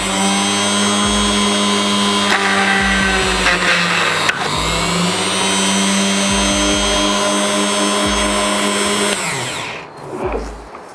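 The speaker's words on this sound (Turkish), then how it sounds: "Biraz devir arttıralım. Cihazımız zorlanıyor." Maxextra MX 2070 mini grinder engraver running at high speed while drilling a hole, a loud, steady whine with pitch dips where the bit loads up, continuous for about nine seconds before winding down.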